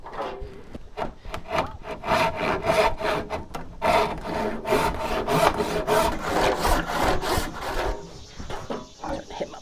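Hand saw cutting through the wooden stock of a handmade flintlock, steady rhythmic back-and-forth rasping strokes, close and loud, ending with a brief scrape near the end.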